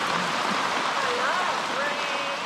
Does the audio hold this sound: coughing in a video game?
no